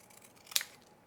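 A single crisp snip of scissors cutting a paper rectangle for a kids' sheep collage craft, a short sharp sound alone against quiet room tone.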